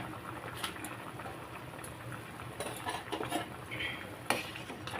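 A pot of taro curry with tilapia simmers, giving soft, steady bubbling with occasional light clinks and a brief faint stir, quiet and close.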